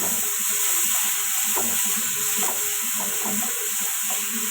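Sliced onion and green pepper frying in a pan for a fish stir-fry, giving a steady, close sizzle throughout with a few soft stirring scrapes.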